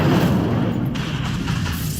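The Incendio fire spell is cast in Hogwarts Legacy, a loud, close burst of fiery booming and whooshing that fills the whole short moment without pause.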